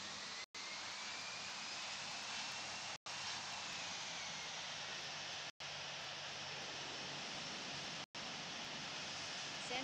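Airliner engines roar steadily during takeoff in the Infinite Flight simulator, an Etihad Airbus A380 on the runway, a loud continuous broadband jet rush broken by brief short dropouts.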